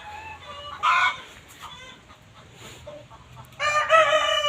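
A rooster crows nearby on a rural garden farm, two strained crowing calls about three seconds apart with soft clucking and faint ambient noise between them.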